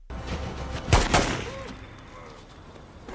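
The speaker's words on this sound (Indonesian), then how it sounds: "Yang alhasil si Yates ini kena tembakan yang fatal." Gunfire in a film scene: a quick cluster of two or three sharp shots rings out near the middle, then fades into quieter ambient noise.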